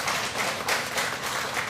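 A church congregation at a Sunday service claps briefly in a soft, even patter of applause that stays fairly faint and steady for under two seconds.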